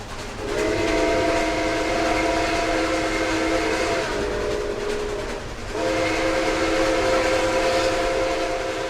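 A loud steam locomotive, C&O 2765, rumbles steadily past in the New River Gorge, its whistle sounding in two long, sustained blasts.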